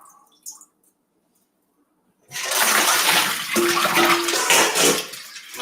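Water from a basil ice bath pours and drains away in a loud, sustained rushing gush that starts abruptly after a quiet pause and continues to the end.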